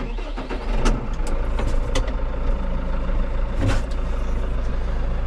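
A farm tractor's engine runs steadily close by on a wheat farm before a fertilizer buggy is hooked up, giving a loud, continuous low rumble with a few brief rattles and surges and no talking.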